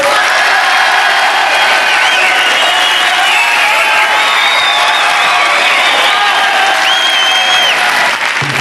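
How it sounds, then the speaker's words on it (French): A television studio audience applauds loudly and continuously, dense clapping with some cheers and whoops mixed in, close and sustained. "Allez, applaudissements au public."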